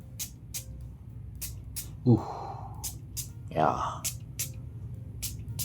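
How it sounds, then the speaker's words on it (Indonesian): Perfume sprayed onto clothes in two short hissing bursts, close to the microphone, set against faint background noise; a voice says a single brief word. "Ini gue semprot dulu di baju."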